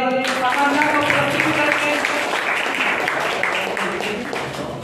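Audience applause at a school's fifth annual prize distribution ceremony in 2022, a steady wash of clapping from a seated crowd that swells at the start and gradually tapers over several seconds.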